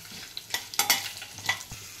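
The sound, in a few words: stirring ginger and garlic frying in a pan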